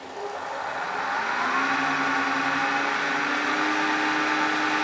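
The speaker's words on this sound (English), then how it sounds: "as I start to cut into the wood, you can see the tip of the gouge" A wood lathe spins as a gouge cuts into the turning wood, a steady loud whirring hum with a scraping edge that builds slightly and holds, close and without talk.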